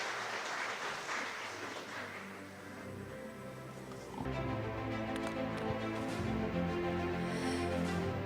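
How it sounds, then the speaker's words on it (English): Audience at an international smart port technology forum breaks into applause, a faint wash of clapping that grows fuller and denser partway through. "So why don't you give them a round of applause?"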